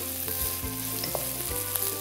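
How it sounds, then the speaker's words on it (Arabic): Lamb meat fries with onion in a pan, a steady close sizzle with periodic scraping knocks of a utensil stirring. "اللحم خليه يتقلى مليح مع البصل هو تاني"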